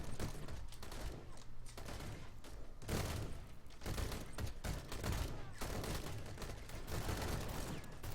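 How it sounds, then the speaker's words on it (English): Gunfire from a large battle in the video game Call to Arms, a dense, continuous fusillade of rifle and machine-gun bursts with occasional booms, steady and busy throughout without pause. "Huge battle right here."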